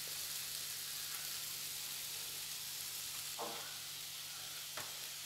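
Shrimp sizzle in a hot pan as filling for Moroccan briouats, a constant hiss of frying close up with a couple of brief clinks of a utensil against the pan.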